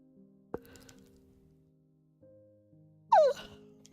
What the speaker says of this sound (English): Sorry, I had the yawn.